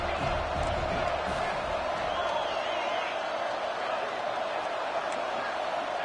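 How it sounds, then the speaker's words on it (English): Crowd noise in a college football video game, a steady loud roar from stadium fans building on third down, filling the whole stretch without pause. "3rd down, and the crowd really getting into it"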